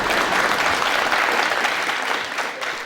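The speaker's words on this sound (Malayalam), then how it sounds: "ഇപ്പൊ നല്ലൊരു കയ്യടി കിട്ടുമായിരിക്കും" Loud, dense applause from a television studio audience fills the clip continuously, many hands clapping together and tapering slightly toward the end.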